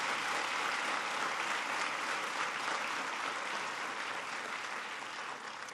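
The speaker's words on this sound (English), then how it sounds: "I noticed some of the parents were the first to clap." Parents in an audience clap at President Obama's speech on education and the economy, making sustained, even applause from a large crowd that tapers slightly toward the close.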